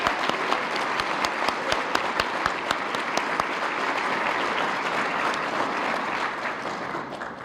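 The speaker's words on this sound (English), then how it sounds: "please join me in a round of applause for past honorees Chris Brown, Jim Milliken, and Tom Raffio." Sustained applause from an audience at a chamber of commerce annual meeting and Citizen of the Year awards evening, steady and full for several seconds with sharp individual claps standing out early, then slowly thinning toward the end.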